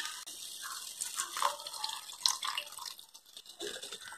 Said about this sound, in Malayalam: ഇനി നമുക്ക് ഇതിലേക്ക് തേങ്ങാപ്പാൽ ഒഴിച്ചു